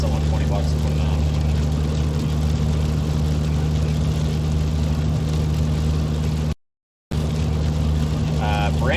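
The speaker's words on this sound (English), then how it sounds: "Brandon's exhaust, it sounds like he's got a hole behind the flex pipe" A car idles with a low, steady engine drone, the exhaust leaking through a hole behind the flex pipe, giving a constant rumble with brief quieter gaps.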